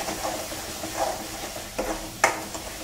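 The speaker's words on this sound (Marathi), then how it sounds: "आता हा सगळा मसाला चांगला भाजून घ्यायचा" Chole masala roasts in oil in a pan, a soft, low sizzle beneath intermittent stirring scrapes and one sharper clink of a utensil against the pan.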